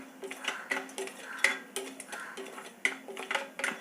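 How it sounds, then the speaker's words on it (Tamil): Cloves and cinnamon sticks frying in a pan, with soft crackles and faint sizzling pops scattered irregularly alongside light clinks of a utensil against the pan, close and quiet. "இந்த லவங்கம் வந்து கொஞ்சம் பொரியட்டும்."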